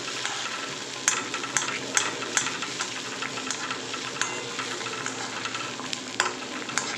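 Palm fruit poa pitha frying in oil, a dense continuous bubbling sizzle with frequent small crackles and spatula taps, close and steady, with no voices.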